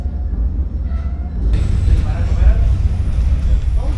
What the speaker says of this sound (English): The train's going pretty slowly, but that's nice because we can just soak up the views.